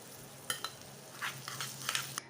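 Green chillies and ginger sizzling in hot ghee with cumin seeds and asafoetida, a steady frying crackle with a few sharp spatula or spoon clinks against the pan, close and alone.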